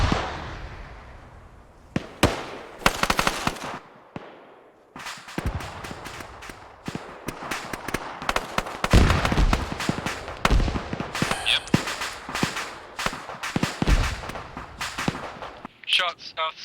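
Gunfire in Arma 3 during a VDV incursion battle, with sharp cracks and rattling bursts of shots, some near and loud and others distant, scattered irregularly throughout, while voices talk over the shooting.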